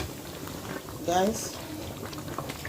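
A pot of stew bubbles softly at a low simmer on the stove, a faint steady boil with one brief louder burble, while someone talks over it.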